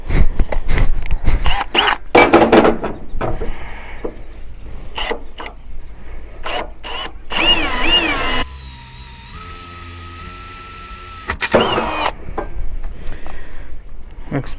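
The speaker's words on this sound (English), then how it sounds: "I might need to go for a pilot drill for this one." A power drill boring a pilot hole during a winch rope change from steel to synthetic, whining in bursts with a steady high drill run in the middle, close by, with some talking before and after.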